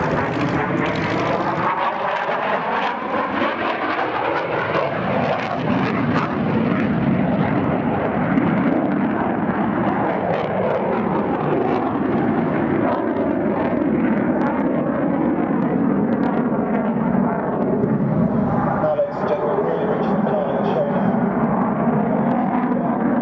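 An RAF Typhoon fighter jet flies at the 2008 Duxford air show, its engine roar heard as a loud, continuous, broad rumble that swells and shifts in pitch as it passes overhead.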